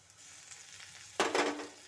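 Garlic paste, ginger paste and slit green chillies hit hot oil with onions in a pan, a sudden burst of loud sizzling after a quiet stretch.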